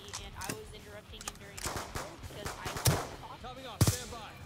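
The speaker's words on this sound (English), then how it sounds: "And I just shot." Video game gunfire: scattered sharp gunshots and short bursts across several seconds, some louder, mixed with game sound effects and people talking.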